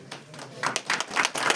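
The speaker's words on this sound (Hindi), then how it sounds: "तालियों की गर्जना हमारे अतिथियों के स्वागत के लिए लगातार चलती रहनी चाहिए" An audience at a Republic Day programme applauds to welcome guests, with rapid clapping bursts building in loudness over a second and a half after a quieter opening.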